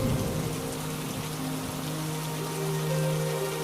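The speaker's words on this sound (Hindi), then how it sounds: "तभी अचानक फिर से भयंकर बारिश शुरू हो जाती है।" Heavy rain pours down steadily, a dense unbroken hiss of drops hitting surfaces, loud and close, with a faint low hum running beneath it.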